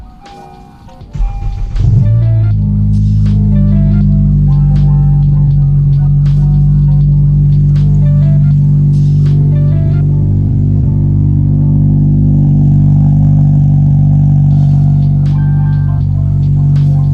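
A car engine cranks and catches, then settles into a steady loud idle with strong low rumble that holds for many seconds, close by with faint clicks and rattles on top.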